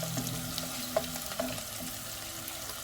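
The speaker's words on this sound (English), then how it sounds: "we're gonna saute the onions with the Granny Smith apple" Onions and Granny Smith apple sautéing in a pan, a soft, steady sizzle and crackle with a few louder pops and light stirring clatter, heard close and alone without talk.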